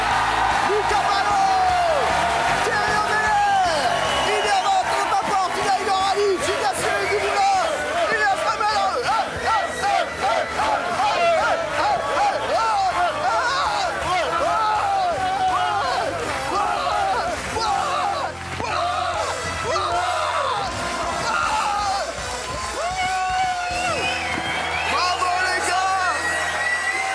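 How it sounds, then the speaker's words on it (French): A television studio audience on a French talk show cheers, whoops and applauds continuously and loudly for nearly half a minute, with shouted voices and chanting mixed into the roar of the crowd. "Applaudissements pour eux!"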